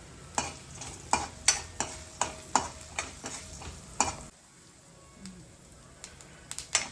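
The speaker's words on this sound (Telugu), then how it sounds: "ఆవాలు కొంచెం పట్టుపట్లాడిన తర్వాత చప్పుడు" Mustard seeds and asafoetida frying in hot oil in a pan, giving quiet sizzling with a string of sharp, spaced pops and crackles, a calmer stretch, then a few more pops near the end.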